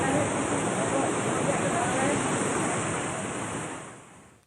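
Floodwater from a river swollen by four hours of heavy rain rushes over a road bridge at Khirwad near Raver in Jalgaon, a loud, steady broadband roar that holds constant before fading slightly at the end.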